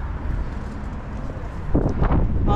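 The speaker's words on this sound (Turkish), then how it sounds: "Bugün şansımıza çok rüzgarlı" Strong wind buffets the microphone outdoors in Armenia in a dense low roar, growing louder and gustier toward the end.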